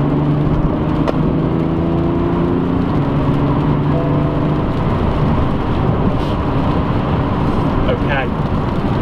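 A BMW 335d F30 diesel accelerates hard out of a corner, a loud, steady engine drone with rising tones under constant road and wind roar, heard from inside the car with no talking.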